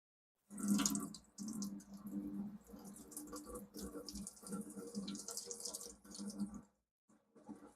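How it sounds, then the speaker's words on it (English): A kitchen faucet runs steadily into a large bowl for about six seconds, a loud, broadband rushing gush that starts abruptly and cuts off near the end, with a few faint clicks afterward. "Sorry if the water's really loud for you guys. It's just the faucet."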